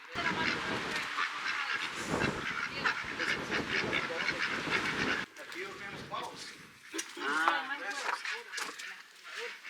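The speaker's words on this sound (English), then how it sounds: "And they even have ducks so that they can eat duck eggs." Ducks kept for eggs on a farm in Costa Rica, honking and quacking in loud, busy overlapping calls nearby, with people talking over them throughout.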